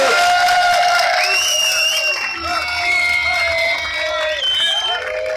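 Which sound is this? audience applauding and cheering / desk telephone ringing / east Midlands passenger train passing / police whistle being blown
audience applauding and cheering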